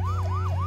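A wailing, police-style siren from a power-up in the video game Luigi's Mansion 3 rises and falls in quick repeated sweeps over a steady low hum, loud and continuous.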